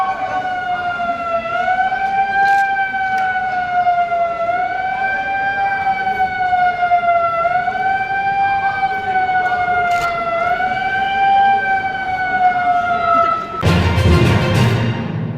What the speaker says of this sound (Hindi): और अभी जब सायरन बजेगी 10 सेकंड के